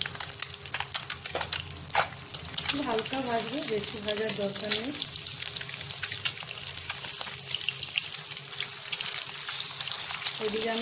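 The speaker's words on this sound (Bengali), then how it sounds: "হালকা ডিমটাকে ভেজে নেবো" Halved boiled eggs sprinkled with turmeric and salt fry lightly in a pan, making a constant close sizzle with crackling pops. A voice speaks briefly partway through.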